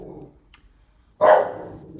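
A single dog bark bursts out loud and close, a short sharp yelp standing alone after a quiet stretch, with a faint low rumble of room noise beneath.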